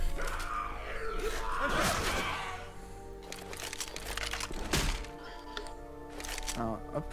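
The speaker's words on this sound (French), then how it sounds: "Il y a tellement d'explosions que." Explosions and cracking impacts in the zombie shooter game Left 4 Dead 2, loud bursts with crunching debris early and another sharp blast near the middle, amid game noise and players talking.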